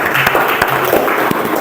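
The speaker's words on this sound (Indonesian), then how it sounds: "Tepuk tangan buat kelompok Al-Habir" A classroom audience claps for a group after its presentation, a fairly loud, close patter of hands with a few sharper individual claps standing out, with faint voices mixed in.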